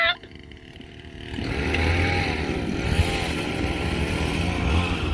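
A motorbike engine revs up and holds a buzzing, rising drone at moderate distance as the rider tries a wheelie, with a shout at the very start.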